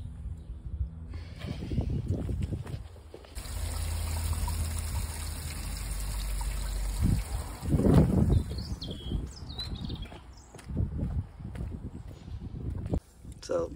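Water trickling and rushing through a home heating system being flushed by a mains flushing unit at around 2 bar, a steady running flow with a few gurgling surges, partly under someone talking.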